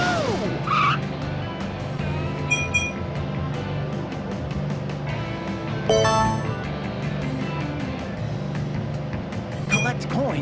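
Toy car racing in the Team Umizoomi Math Racer game: a loud engine drone with tire squeals and skids, bright chimes and jingles popping in over cheerful game music.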